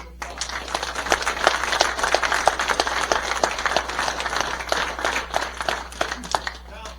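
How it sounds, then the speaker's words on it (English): Audience applause at a high school baseball umpire clinic, steady dense clapping from a crowd lasting several seconds, fairly loud and close. "Let's give them a round of applause."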